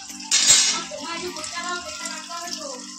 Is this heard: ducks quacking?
no